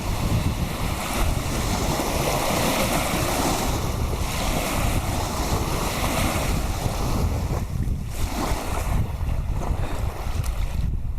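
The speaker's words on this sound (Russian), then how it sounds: "Волны большие от нее идут" Waves from a passing emergency rescue boat washing onto a river beach, a continuous rushing swash mixed with strong wind buffeting the microphone, no voices.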